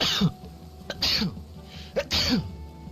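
A sneeze amid rifle drill training, heard as short sharp bursts of breath at close range, several explosive expulsions spaced about a second apart with background noise between.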